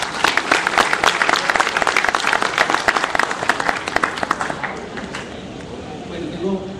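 Audience applause welcoming Dr. Mauricio Beltrán Cristancho as he takes the stage in Barranquilla, brisk crisp clapping from many hands that thins out and fades over the last couple of seconds.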